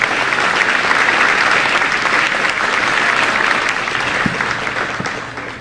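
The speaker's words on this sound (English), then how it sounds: "Let's give them a round of applause." A large audience at a middle school advancement ceremony claps steadily in a dense, even wash of applause, holding strong before tapering slightly near the end.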